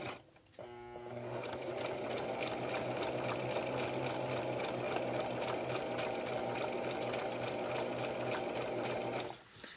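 A sewing machine runs steadily while back stitching a fabric scarf face mask, starting up with a rapid even needle rhythm that holds for several seconds before stopping, close and fairly quiet with no talking.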